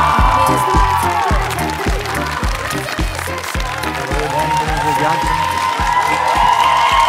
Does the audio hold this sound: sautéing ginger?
no